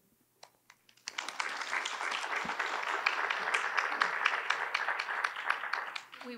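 Audience applause at a North Hempstead, New York supervisor forum, a few isolated claps first, then steady broadband clapping swelling from a full crowd and tapering off near the end.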